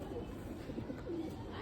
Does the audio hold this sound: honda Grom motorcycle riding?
no